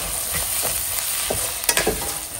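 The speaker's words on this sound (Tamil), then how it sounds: "தக்காளி சேர்த்து நல்லா வதக்கிக்கலாம்." Tomatoes being sautéed with ginger-garlic paste in a pan: a steady soft sizzle runs under repeated stirring scrapes, with a few sharper clacks of the spoon against the pan near the end. Close by, with no talking.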